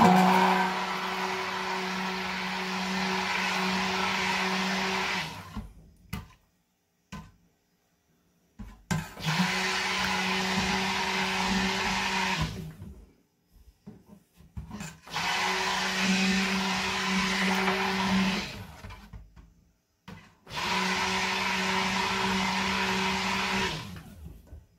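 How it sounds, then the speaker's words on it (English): A blender mixing blackberry vanilla soap whirs loudly in four long bursts, each several seconds long, with short quiet gaps between them as it switches off and on. "First, I'm going to plug in my blender."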